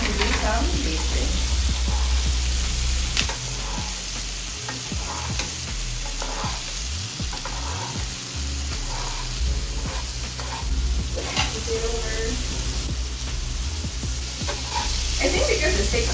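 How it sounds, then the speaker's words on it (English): Thin cheap-versus-expensive steaks basted in a sizzling pan, a steady close frying hiss with spoon scrapes and spattering bursts, fairly quiet overall and without talk. "Then it's time to do some basting."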